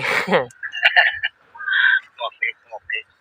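Chickens cluck at a durian orchard near Saraburi, Thailand, a series of short, close calls in separate bursts after a person speaks at the start.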